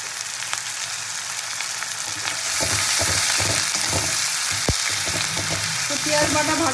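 Onion paste fries in salted oil in a Bengali kitchen, a continuous crackling sizzle that grows louder and busier partway through, with scattered pops and spatters.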